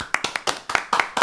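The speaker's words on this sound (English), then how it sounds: "Let's clap it up. Let's clap it up." Hands clapping on a podcast, about nine sharp separate claps in a quick uneven rhythm, close and alone with no talk over them.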